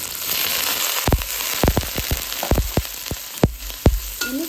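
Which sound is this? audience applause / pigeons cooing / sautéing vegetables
sautéing vegetables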